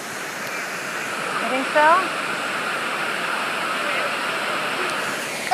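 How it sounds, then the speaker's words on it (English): Steady broadband rushing of a waterfall in Oregon, continuous and fairly close, with a brief spoken phrase and a faint high voice rising over the roar. "they call this a waterfall"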